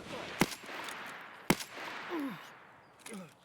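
Sparse, distant single gunshots in Escape from Tarkov, three sharp cracks spaced about a second apart with quiet ambient noise and faint chirping sounds between them.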